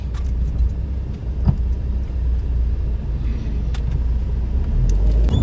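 A car drives along the road to Shirdi, heard from inside as a continuous low rumble of road and engine noise with a few light rattles, steady throughout and free of talk.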